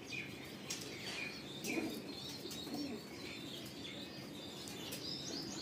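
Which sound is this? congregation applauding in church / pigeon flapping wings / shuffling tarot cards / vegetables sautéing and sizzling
pigeon flapping wings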